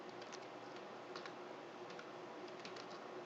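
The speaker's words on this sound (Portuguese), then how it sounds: "Eu vou digitar algumas coisas nas células aqui." Steady typing on a computer keyboard, entering text into spreadsheet cells, with a continuous run of quick light key clicks close by over a constant background hiss.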